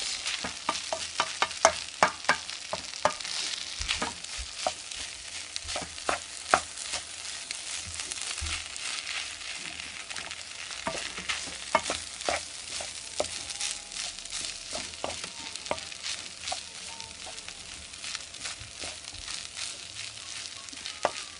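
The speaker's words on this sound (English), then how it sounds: "Mix, blend, mix and blend, and let that cook through." Food cooking in a pan is stirred and mixed, giving a steady sizzle broken by many sharp scraping and tapping strokes of the utensil against the pan, close and continuous over the whole stretch, with no talking.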